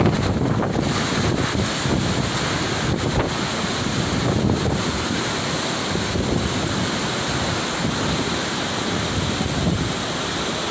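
A strong typhoon wind roars without pause in Calauag, Quezon, a dense, loud rush buffeting the microphone with heavy low rumble and constant gusting hiss.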